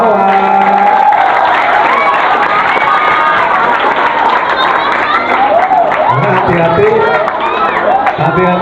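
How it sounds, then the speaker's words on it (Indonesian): A crowd of school students at an Islamic junior high assembly applauds and cheers for a guest speaker from the local police. Dense, loud clapping and shouting is mixed with voices throughout. "tepuk tangan untuk Pak Wawan"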